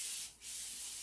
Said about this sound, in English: continues to spray, just keeping my finger one time on it